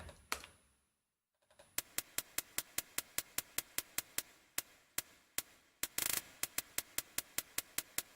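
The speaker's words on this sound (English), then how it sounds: "there's also this hi-hat." A crisp hi-hat from a future bass track built in LMMS ticks in a steady, swung pattern of sharp, short hits, preceded by a brief gap of near silence.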